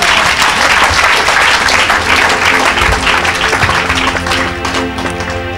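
Audience applause at a church healing and miracle service, sustained loud clapping from a crowd filling the whole stretch with no talk.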